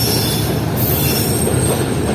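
A Shah Latif Express passenger train arrives at a platform of Hyderabad Junction station, its wheels squealing loudly against the rails over a steady, close rumble of rolling carriages.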